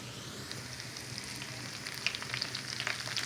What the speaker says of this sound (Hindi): अब मैं इसके अंदर करी पत्ता और ये ज़ीरा और ये लाल मिर्च डाल दूँगी।